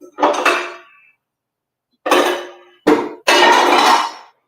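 Four separate bursts of clattering as food is scooped into a casserole dish, with dish and utensil clinks close by, pauses of silence between them and no talking.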